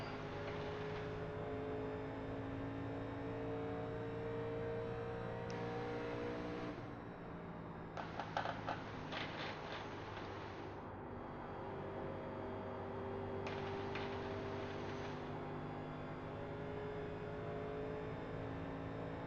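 A 1987 NASCAR stock car in iRacing at Charlotte rises in engine pitch under gentle throttle, a loud, steady tonal drone with a smooth rev climb and brief mechanical rattles partway through, no talking.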